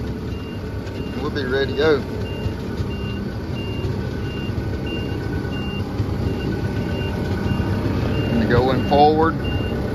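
A reversing machine sounds a steady series of evenly spaced backup beeps under a continuous engine rumble, with someone talking at the start and near the end.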